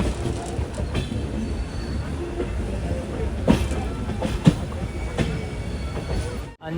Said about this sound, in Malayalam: 1-ാം നമ്പർ പ്ലാറ്റ്ഫോമിലേക്ക് തന്നെയാണ് ട്രെയിൻ പോകുന്നത്